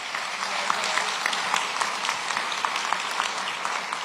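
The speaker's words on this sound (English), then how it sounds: "Give Officer Andrews a round of applause" Dense, steady clapping from an audience at a police-community relations awards ceremony fills the whole stretch, even and sustained with no talk.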